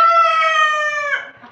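A fancy rooster crows once, close and loud, a drawn-out harmonic call that holds steady before breaking off and fading near the end.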